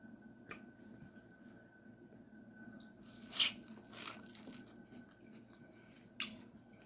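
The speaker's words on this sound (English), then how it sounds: "I am enjoying my seafood boil." Someone eats a seafood boil of snow crabs, shrimp, eggs, potato and corn, with a few soft close-up squishes and cracks and occasional wet clicks spread sparsely over a quiet background.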